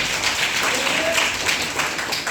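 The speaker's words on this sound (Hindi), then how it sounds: "जोरदार ताली बजाइए" Students in a Hindi-language classroom give a quick round of applause for a classmate's correct answer, a short burst of dense clapping with faint voices mixed in.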